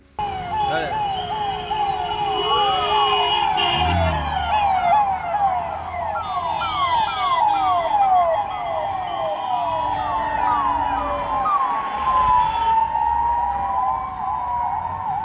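An ambulance siren wails continuously in a fast rising-and-falling yelp during a zero-traffic road transfer of an infant to Hubballi, loud and close, with vehicle rumble underneath.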